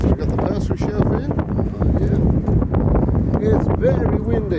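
Strong wind rumbles and gusts against the microphone continuously, a dense low roar with faint background sounds mixed in.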